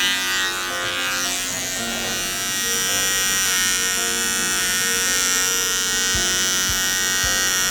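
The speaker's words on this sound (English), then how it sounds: "So turning on our clipper, and we are just going to use half of our clipper" An electric dog clipper hums in a steady, loud buzz as its corner trims the hair around a dog's paw pads, running continuously without pause.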